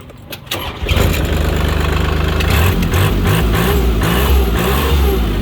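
A used 36-horsepower 2011 tractor with 1,296 hours and a performance exhaust cranks briefly, catches and settles into a loud, steady, close diesel idle.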